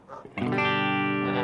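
Electric guitar through a TC Electronic JIMS 800 preamp set to high-gain distortion: after a brief quiet pick noise, a loud, thick, saturated chord rings out and sustains alone.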